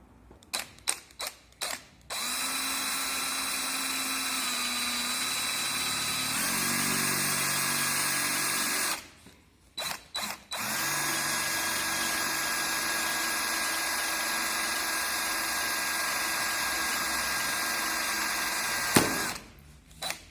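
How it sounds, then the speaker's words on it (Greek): A power drill boring a hole in a plastic base, starting with a few quick ratcheting clicks, then a loud, steady whine that shifts pitch, cuts out briefly, and resumes for a long continuous run before a final click. "Με το τρυπάνι μας θα κάνουμε την τρύπα μας."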